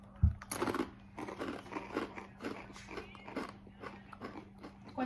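Close, quiet crunching of lime-flavored Takis rolled tortilla chips, several sharp bites followed by repeated chewing crunches at an uneven pace, with no talk.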